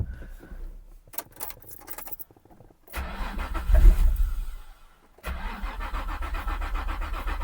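A Nissan 350Z engine cranks over repeatedly without catching during a compression test, a steady rhythmic churning that stops, then starts again after a pause, close and fairly loud.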